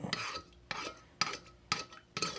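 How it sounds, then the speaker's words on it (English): A spoon stirs pectin into cold apple juice, making five evenly spaced scraping strokes against the container, quiet and close, with no talking. "Kind of stir it in a little bit"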